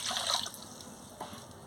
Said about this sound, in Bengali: আমি কড়াতে পরিমাণ জলটা দিয়ে দিচ্ছি।